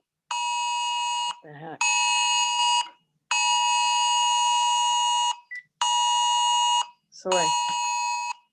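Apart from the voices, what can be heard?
phone Amber Alert emergency alarm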